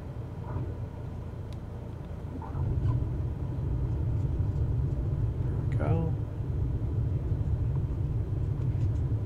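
Microsoft Flight Simulator 2024 aircraft on landing approach behind other traffic: a steady low engine rumble that grows louder partway through, with a brief voice-like sound near the middle.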